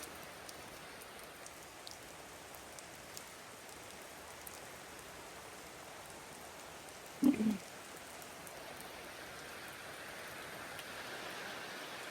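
Steady, heavy rain pours down at night without pause, a dense hiss of drops on surfaces, with one brief louder knock partway through.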